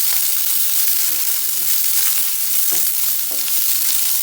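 Chili frying in a pan for an aloo matar paneer curry, a steady close sizzle with light stirring clicks scattered throughout, no voices.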